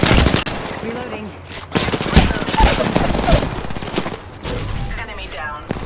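Rapid bursts of automatic gunfire in a video game firefight, loud and dense, with short pauses between volleys and a voice speaking briefly beneath the shooting.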